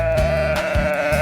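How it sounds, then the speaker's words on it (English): A sheep bleats loudly and close by, a steady wavering call with a brief break partway through, heard alone with no talk. "It's a sheep."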